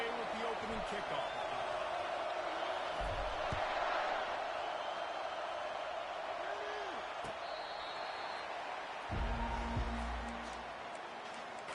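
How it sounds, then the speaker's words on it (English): Steady stadium crowd roar in a college football video game at the Buckeyes' opening kickoff, a loud dense wash of cheering that holds for the whole stretch, broken by a few dull thuds and a deeper rumble swelling near the end. "This crowd trying to show them what it's going to be like all day in this house."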